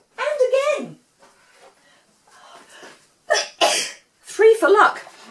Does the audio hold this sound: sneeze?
yes